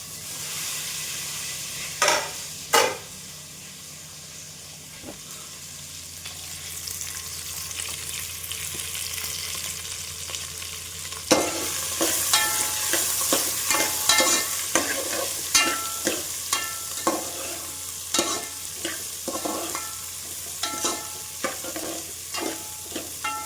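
Onion, chilli and capsicum fry in a pan with a steady sizzle, joined partway through by a louder burst and a run of sharp scraping stirs and clinks, close and without talk.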